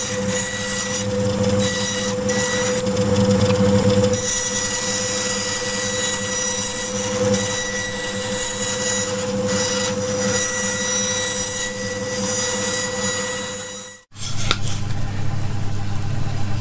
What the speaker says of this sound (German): Ich säge den ganzen Kram jetzt erstmal hier.